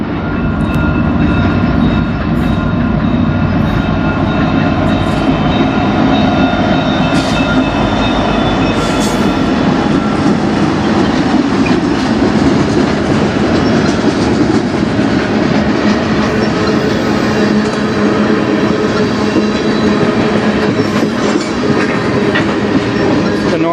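CN freight trains roll past in Sarnia, Ontario, loud and close, with a continuous heavy rumble, rhythmic clickety-clack of wheels over rail joints and occasional metallic squeals, steady throughout.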